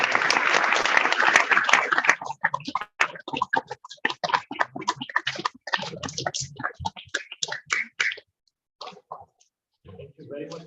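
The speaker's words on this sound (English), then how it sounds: "One more round of applause." An audience at a Sunday feast class claps in a loud burst that thins into scattered, uneven claps and fades to a few stray hand claps near the end.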